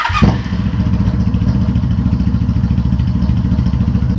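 Honda Magna motorcycle engine idling with its gas tank removed, running on fuel left in the carburetor: a loud, steady, close low rumble with an even rapid pulse, opening with a brief clatter.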